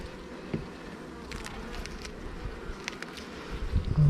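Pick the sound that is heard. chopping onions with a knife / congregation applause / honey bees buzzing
honey bees buzzing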